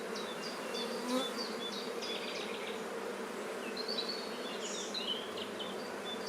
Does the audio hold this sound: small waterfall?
no